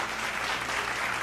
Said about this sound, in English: a bigger round of applause when I go on